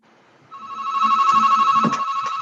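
During a video meeting a telephone rings loudly, the repeating electronic ringtone starting abruptly and pulsing steadily, with only a faint murmur behind it.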